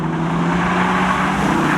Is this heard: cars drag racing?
yes